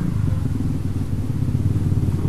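A Honda Beat scooter engine running on Shell Advance oil after its cylinder was bored out, a loud, close, steady low buzzing drone that holds an even pitch for a couple of seconds with no talk.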